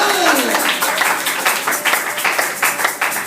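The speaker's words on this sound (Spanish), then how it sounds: "démosle a Él una ofrenda de palmas, pero con fe" A church congregation gives an offering of applause, a thick, continuous wash of many hands clapping at once, loud and sustained from start to finish with crisp individual claps poking through.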